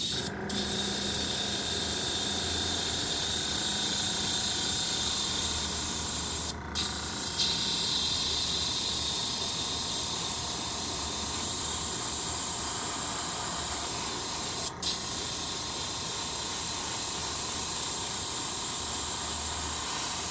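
Spray painting a second coat of paint onto a spoon, a long steady aerosol hiss running nearly unbroken, close and moderately loud, with a few brief gaps.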